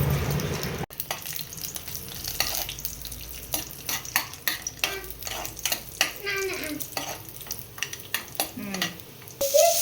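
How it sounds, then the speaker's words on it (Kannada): Raisins and cashews frying in ghee in a pan, a steady sizzle broken by frequent scraping and clinking stirs of a utensil against the metal, close and busy. "ದ್ರಾಕ್ಷಿ ಗೋಡಂಬಿ ಅದೆಲ್ಲ ತುಪ್ಪದಲ್ಲಿ ಹುರ್ಕೊಳ್ಳೋಣ"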